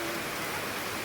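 Steady, dense rain falling outdoors, a continuous hiss that fills the short moment evenly with no voices over it.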